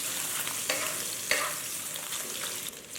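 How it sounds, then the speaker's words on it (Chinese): Pork belly and minced garlic stir-fried in a hot wok, a steady bright sizzle with a few sharp scrapes of the spatula against the metal. "我们再放入切好的蒜末炒匀"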